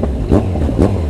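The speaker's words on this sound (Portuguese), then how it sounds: "Olha o ronco da moto dele" A loud Kawasaki Z1000 motorcycle engine rumbles steadily with two quick revving surges as the throttle is blipped up close.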